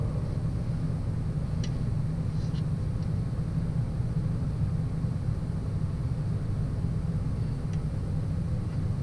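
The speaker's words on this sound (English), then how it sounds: "So now I'm ready to hook up the dangerous wheel and inflate it." Air hisses steadily while a dangerous two-piece wheel is inflated remotely, a constant broadband rush over a low rumble that runs unbroken throughout, with no talking.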